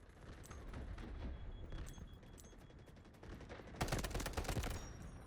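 AKS-74 rifle fire in the shooter game Delta Force, dense rattling bursts of automatic fire throughout, swelling into a louder, closer burst near the end, with no talk.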